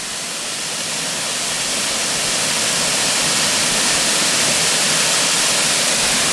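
A waterfall on the Pendle Witches Trail near Barley, Lancashire, roars in a loud, constant rush of crashing water, steady and unbroken throughout with no other sounds standing out.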